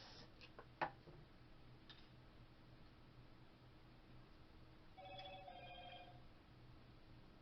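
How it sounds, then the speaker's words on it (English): A phone rings faintly and briefly near the end of a quiet indoor passage, after a few soft ticks and taps, with no speech. "That's my phone."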